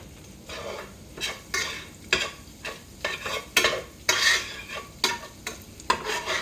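Beef frying in a skillet while a utensil stirs and scrapes it, giving a steady sizzle broken by repeated close scraping strokes against the pan, with no talking.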